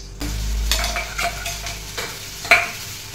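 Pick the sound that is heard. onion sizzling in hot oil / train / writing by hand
onion sizzling in hot oil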